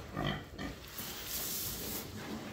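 Pigs grunt and snort close by, several overlapping noises in quick succession, with a bit of rustling around them.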